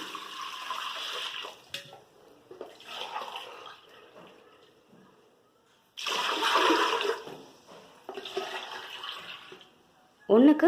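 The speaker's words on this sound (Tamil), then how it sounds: "தேவையான அளவு தண்ணி ஃபஸ்ட்டு அளந்து ஊற்றிடலாம்." Water poured into a pressure cooker on the stove for chicken biryani rice, a rushing, splashing pour in several bursts with pauses between, fairly close and moderately loud, without overlapping talk.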